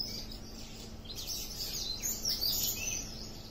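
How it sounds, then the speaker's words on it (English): Magpie robins chirp and call around a birdhouse in a lemon tree in the morning, with high twittering notes over a steady outdoor background and no voices. "There are lots of birds in the morning."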